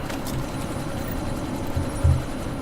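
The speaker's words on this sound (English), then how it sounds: "That chopper's about to take off." A helicopter in the video game Deus Ex: Mankind Divided sits idling before takeoff, giving a steady low engine drone with a faint whine and one brief thump near the end, with no voices.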